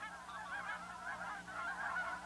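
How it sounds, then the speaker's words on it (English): A flock of geese arrives from the north over an autumn prairie marsh, their overlapping honks forming a continuous, rather faint chorus from a distance. "there they were, the first of the geese coming in from the north"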